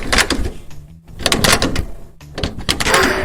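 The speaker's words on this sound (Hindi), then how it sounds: "दरवाजा खुल गया।" A basement door is unlocked and opened: clicks and a rattling latch, then the door scraping and knocking open, loud and close, in three bursts over about three seconds.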